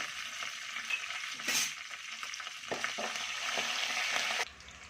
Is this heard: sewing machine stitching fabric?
no